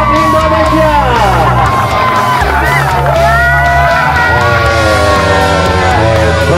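A loud crowd at a Kartini Cup 2022 final in Lampung, Indonesia, cheers and whoops continuously, many voices shouting over one another in a dense, energetic roar.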